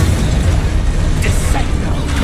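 Confringo spell blasts from the video game Hogwarts Legacy rumble and crackle in a dense, continuous wash of booming bursts while a voice talks over them.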